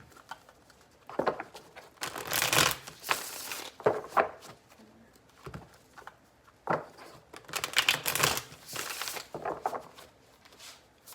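Playing cards being shuffled in several quick riffling bursts with short pauses between, close up and fairly soft.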